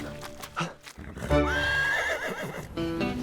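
A horse whinnies once in a long, wavering, rising-and-falling call at moderate distance, with a little low background rumble before and after.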